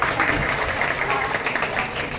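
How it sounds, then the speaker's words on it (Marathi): An audience at a Marathi film and stage acting workshop claps in a dense, continuous burst of applause that fills the room, with voices mixed in. "क्या बात आहे. छान. टाळ्या वाजवा."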